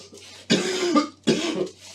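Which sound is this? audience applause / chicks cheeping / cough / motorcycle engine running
cough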